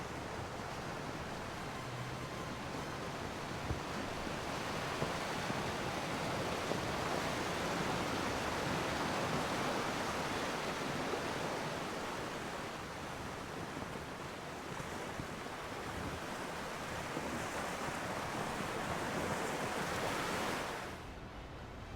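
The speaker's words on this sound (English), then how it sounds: "As we sail off towards the Spanish fleet." Steady ocean surf in the Empire Total War video game as sailing warships head out toward a Spanish fleet, a continuous broad wash of waves and wind held at an even level for about twenty seconds before dropping off at the end.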